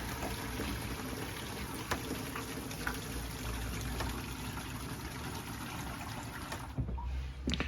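Water runs from a sink tap down into a waste water tank, a steady trickling and gurgling flow under a faint hum that stops abruptly near the end.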